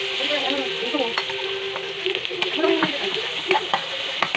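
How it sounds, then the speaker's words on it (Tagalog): Hotdog pieces sauté with garlic and onion in a hot pan, giving a constant close sizzle broken by scraping spatula strokes and light clinks, with no talking. "Magigisa nga muna tayo ng bawang at saka sibuyas. Isusunod ko naman itong hotdog."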